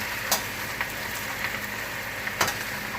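Cabbage frying in a pot, giving a dense, even sizzle throughout with a few light clicks and pops.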